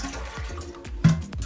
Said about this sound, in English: So we're gonna turn this off and we're going to flush the toilet down.